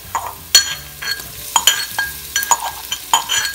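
Crushed garlic and green chilli sauté with onions in a pan for Kerala-style puzhukku, with a soft sizzle and quick metallic clinks and scrapes of a spoon stirring close by.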